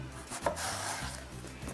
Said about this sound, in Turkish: Sebzelerimize ilk olarak patlıcanı doğrayacağım.